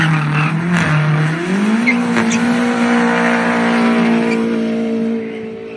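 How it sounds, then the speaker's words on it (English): A BMW drifts on a street with a loud, sustained tire squeal that rises in pitch under a revving engine, holding steady for about five seconds before easing slightly. "Now please see this drift. It's very, very crazy drift."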